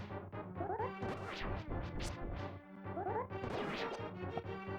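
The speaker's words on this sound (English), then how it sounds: "The pots I smashed." Pots shatter in the Zelda: A Link to the Past video game, a quick run of crisp smashes and cracks layered over busy game music and effects, with no talk.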